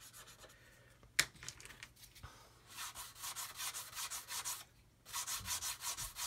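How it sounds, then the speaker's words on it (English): A sanding stick is rubbed back and forth on a wooden bow in steady, rhythmic strokes, close and fairly quiet, with a brief knock and a short pause between runs. "I'm not using any pressure, I'm letting the sanding stick do the work"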